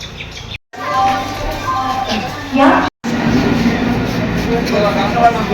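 A train bound for Haringhata rumbles and rattles steadily nearby, with a brief screech midway, two short dropouts and faint chirps over the running noise.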